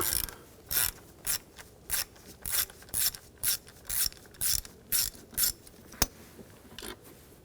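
A ratchet with a 10mm socket works a bolt loose on a 2007-2013 BMW X5 3.0L inline-six during a fuel pump job, sending out about a dozen quick clicking bursts in a steady rhythm, close and fairly quiet.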